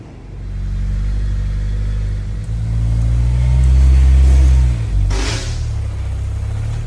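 A Honda S2000 engine revs on a dyno, building a loud low droning roar that climbs through a long pull, then drops off abruptly, with a brief hiss near the end.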